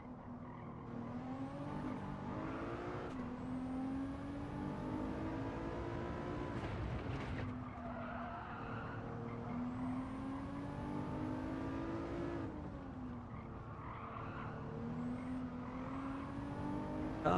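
A race car engine in a sim racing game time trial revs up and down through repeated gear changes, with the car sliding into corners and tyres briefly squealing. The sound is steady, fairly quiet and plays alone with no talk.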